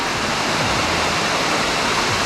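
A waterfall in Palawan, Philippines roars as a steady, dense rush of falling water, loud and close with no other sounds.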